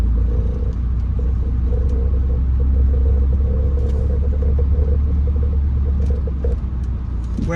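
Car climbing an uphill city street in second gear in Baltimore, a steady close engine rumble with a constant mid-pitched drone and light road noise throughout, no talking.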